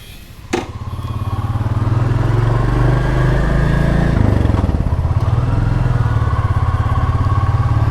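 Loud 2022 Royal Enfield Classic 350 motorcycle engine idling and revving in city traffic in Almeria with a throaty, pulsing rumble, close by, building and settling as it moves off.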